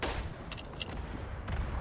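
Artillery fire in the WWI game Verdun, a few sharp distant blasts spaced through a short stretch of quiet battlefield noise, no voices.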